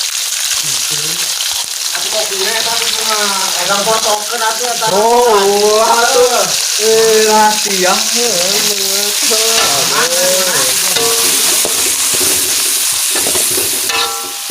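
Ground spice paste frying in a hot pan, hissing with a dense, steady sizzle throughout while a melodic voice, sung or hummed, runs over the top.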